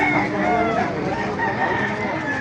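A rooster crows amid a busy Baliuag poultry market, its call rising over a dense crowd murmur and other birds clucking nearby, with voices talking throughout.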